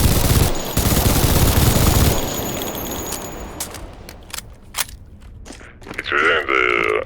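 Bursts of automatic gunfire from a Czech-made gun in Garry's Mod, loud and rapid for the first couple of seconds, then fading to scattered faint shots and brief mechanical clicks.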